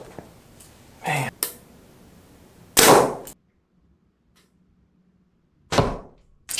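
A Mathews Lift compound bow loosing arrows, several sharp snapping releases, each followed by a thump of impact, with quiet stretches in between.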